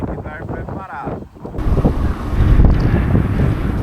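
Strong wind roars across the microphone while cycling along a road, a loud, continuous buffeting rush that swells and stays heavy throughout, with brief voices partly buried beneath it.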